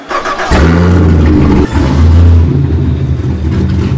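A 1294 hp Fiat Multipla engine revving up close: a loud, deep, droning roar that drops briefly and then swells again into a heavy, sustained rev.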